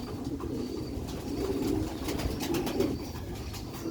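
Silver Sialkoti rooftop pigeons coo in a low, rolling, repeated murmur close by, steady throughout with slight swells, and no one speaks over it.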